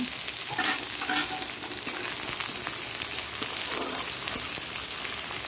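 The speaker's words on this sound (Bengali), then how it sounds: "এবার তেলটা গরম হয়ে গেছে, পেঁয়াজগুলো দিয়ে দিচ্ছি বেরেস্তা করার জন্য।" Sliced onions frying in hot oil to make beresta, a continuous bright sizzle with crackling pops and occasional stirring scrapes, close and steady with no talking.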